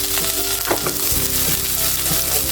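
Spring onion stir-frying in two spoons of oil in a hot wok over a high flame, a steady close sizzle with scattered spatula scrapes and clinks, no talking.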